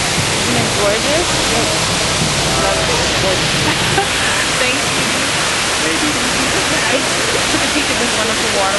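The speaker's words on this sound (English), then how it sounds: "Found this wonderful waterfall here." An Alaskan waterfall roars in a steady, loud, unbroken rush of water close by, with a brief voice heard over it.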